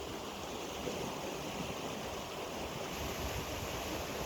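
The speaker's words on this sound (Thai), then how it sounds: "เปิดระบายน้ำก่อน" Water rushing steadily through the opened sluice gates of a monkey-cheek weir at Ban Nong Waeng, a continuous broadband roar with wind buffeting the microphone, constant in level and heard alone.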